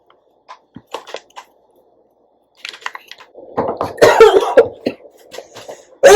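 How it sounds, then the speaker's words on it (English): A person coughs and clears their throat several times while mixing hair bleach in a bowl, starting with scattered soft bursts and building into a louder cluster of harsh, close coughs. "I've already been coughing all day long."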